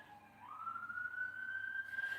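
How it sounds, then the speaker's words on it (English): An ambulance siren passes outside as a steady, rising wail, moderately loud, with no speech over it. "Sorry, the ambulance."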